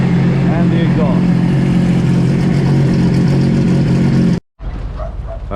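Exhaust of a Sea-Doo RXT 260 jet ski drones loud and close at a steady rev, cutting out abruptly near the end before a quieter rumble resumes; voices can be heard over it.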